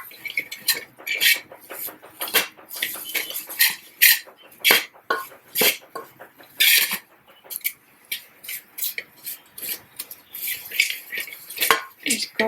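Spoon scraping and clinking against a pan as a Sindhi kadhi base is roasted and stirred, steady rhythmic metallic strokes, close and fairly loud, with no talking.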